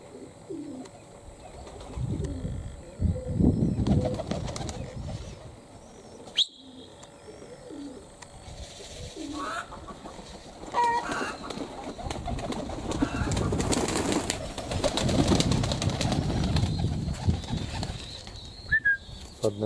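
Pigeons coo repeatedly at a dovecote housing Cochin and Brahma birds, with soft chirps and brief bursts of wing flapping mixed in. The cooing swells and fades in waves over moderate background noise.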